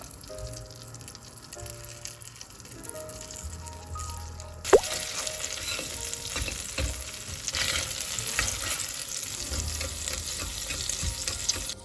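A pan sizzles and crackles steadily, growing louder after a sharp clink partway through, with faint stirring and dripping sounds close by.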